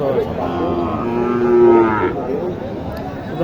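Cattle lowing at a busy livestock market in Naogaon where Sahiwal and Gir heifers are sold, a long loud moo rising and falling over steady crowd murmur and other animals.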